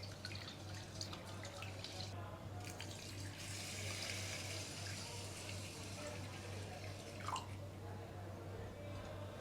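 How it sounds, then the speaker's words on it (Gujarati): Soaked rice and fenugreek seeds are washed by hand in water for idli batter, with steady close splashing, dripping and swishing over a constant low electrical hum. "આવી રીતના છે ને 4-5 વાર ધોઈ નાખવાનું"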